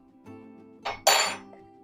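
A metal spoon is picked up in a home kitchen while seasoning is being mixed, giving two close, bright clinks against dishes over a low background hum.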